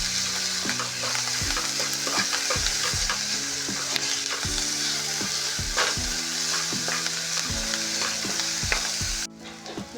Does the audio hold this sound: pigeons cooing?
no